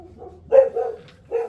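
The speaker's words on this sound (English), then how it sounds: "Dogs are going nuts." Several dogs bark loudly and close by indoors, with two or three sharp, clipped barks spaced apart over a faint background hum.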